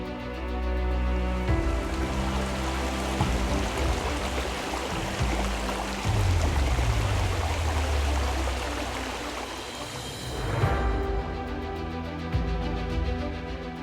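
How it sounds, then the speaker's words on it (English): Roaring Class 5 whitewater rapids on the Colorado River, a loud, continuous rushing wash of churning water that holds steady throughout, with a faint musical tone running underneath. "Whitewater rafting on the Colorado River is an ultimate challenge, with Class 5 rapids demanding courage and skill"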